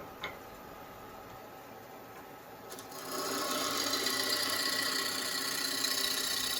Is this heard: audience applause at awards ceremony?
no